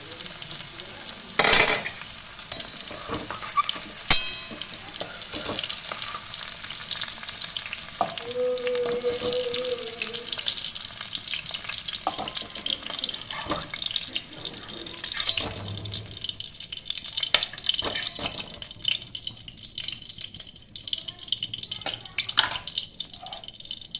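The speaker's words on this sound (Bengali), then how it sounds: "এবার লাল ডাঁটাটা ভেজে নেব।" Red amaranth stems frying in a pan of oil as a spatula stirs them, steady close sizzling with scraping stir strokes, occasional louder clatters, and a brief tonal squeak partway through.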